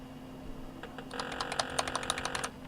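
Rapid keypresses on a computer keyboard at the boot screen of an old DOS-era PC, a quick burst of clicky taps lasting under two seconds over a steady low machine hum.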